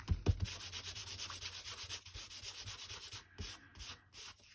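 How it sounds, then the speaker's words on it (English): An embossing buddy rubbed back and forth over a black and white stamped card, a close, steady scratchy swishing in even strokes with brief pauses near the end, no speech. "And I will use my embossing buddy this time."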